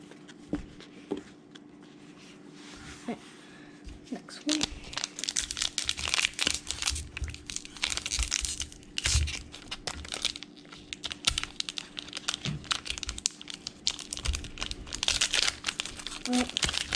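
Plastic wrapping is peeled and crinkled off Pokémon card packs from a Shining Legends Premium Collection box, giving steady close rustling and crackling with sharp tearing bursts throughout.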